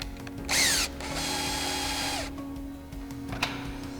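A power drill drives a Phillips head screw into the striker plate of a Magna Latch child safety gate latch, a short whine, then a sustained steady run that winds down, close up.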